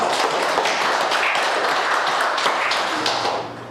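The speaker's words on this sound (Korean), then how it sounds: "하나님께 영광의 박수 드립니다" A church congregation applauding together, a dense, steady wash of many hands clapping close by that tapers off at the very end.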